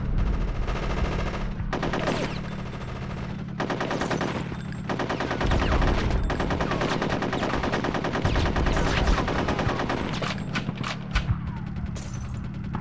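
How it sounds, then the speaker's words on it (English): Gunfire in the video game Conker's Bad Fur Day, loud rapid machine-gun bursts rattling almost continuously, broken by a few short gaps and sharp single cracks near the end, with no talking over it. "I do believe I'm being shot at"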